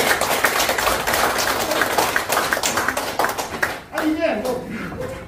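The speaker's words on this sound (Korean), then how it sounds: "그래 전 여러분에게 박수를 보내드립니다." An audience in a lecture room claps together at a photography class for counselors, a fairly loud burst of hand claps that thins and stops near the end.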